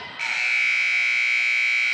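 A loud, steady electronic buzzer sounds at the end of a quarter in a girls' varsity high school basketball game, Bedford against Concord, holding one unbroken tone for about two seconds after a short lead-in.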